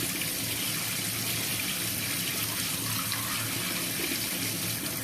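A bathtub tap runs at low water pressure, giving a steady, even hiss of flowing water into the tub that holds unchanged throughout with no voices.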